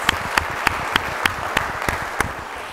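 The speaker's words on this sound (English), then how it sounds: "So we have a big applause for that." An audience at a college honors ceremony applauds, a steady, moderately loud clapping with a few sharp individual claps standing out at regular intervals over the sustained patter.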